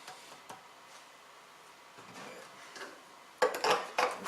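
A plastic filler cap is screwed back onto the fuel tank of an HY1000Si portable generator, giving a few scattered light clicks and scrapes followed by a louder, closer cluster of plastic knocks and rattles at the end.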